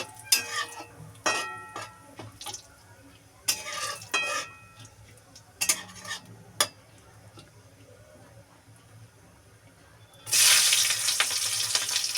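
Green chilies dropped into hot oil with whole cumin seeds already fried reddish, for a shrimp and cabbage ghonto: a few short crackling bursts, then a loud, dense sizzle erupts near the end and keeps going, close by, with no speech.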